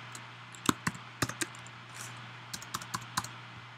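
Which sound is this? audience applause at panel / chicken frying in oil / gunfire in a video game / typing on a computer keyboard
typing on a computer keyboard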